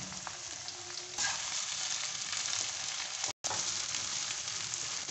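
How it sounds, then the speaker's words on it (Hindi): Okra dropped into hot oil without salt, frying with a continuous bright sizzle that swells as the pieces go in, with a brief gap of silence partway through. "ऑयल गर्म हो चुका है, हम इसमें भिंडी ऐड कर देंगे"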